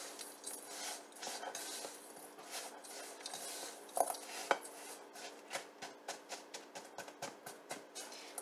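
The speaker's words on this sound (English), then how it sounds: "we're going to add our butter, and then we're just going to mix that together until it's nice and sandy" Brown sugar and butter are worked together in a bowl with a utensil, giving soft, faint scraping and clinking strokes that settle into a quick, regular rhythm toward the end.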